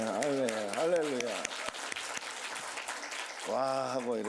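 A church congregation at a Sunday worship service claps in a scattered burst, heard between stretches of someone speaking loudly at the start and end.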